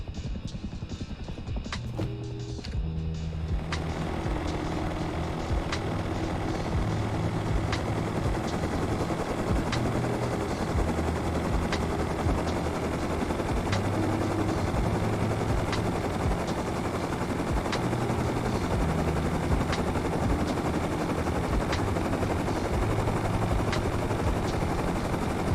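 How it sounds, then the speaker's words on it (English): In the video game Rust, an attack helicopter's rotor thumps steadily and loudly throughout, with rapid bursts of machine-gun fire crackling over it. "There's the attack heli."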